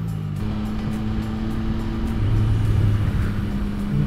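Traffic passing on a road, heard from a motorcycle on the move: a steady engine and road rumble that swells for a moment midway as vehicles go by, with no talking.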